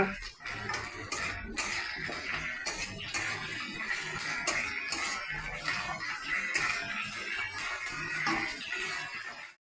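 Ginger paste is stirred into a soybean and potato curry in a metal pot. A spoon clatters and scrapes steadily against the pot in quick repeated strokes, and there is some faint background talk.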